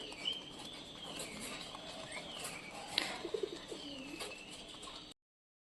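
Pigeons coo softly and continuously in a quiet spot, their low, wavering calls repeating with a brief brighter chirp partway through, and no talking.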